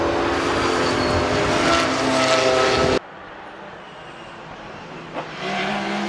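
A Ginetta race car roars past on track in an endurance championship round, a loud, close engine blast that cuts off abruptly, leaving fainter distant engine noise and a brief rev.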